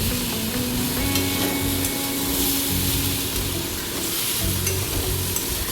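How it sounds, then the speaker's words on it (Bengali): Dried fish and potato curry fry and get stirred in a pan, making a loud, continuous sizzle with bubbling and repeated scraping of a spoon, close up and without speech. "একটু সময় জুড়ে এগুলোকে নাড়াচাড়া করতে থাকতে হবে"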